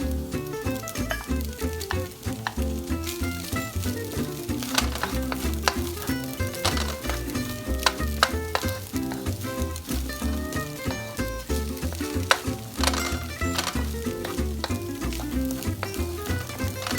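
Eggs frying in a pan for quinoa fried rice give a steady, close sizzle with light crackling patter, running continuously beneath prominent background music.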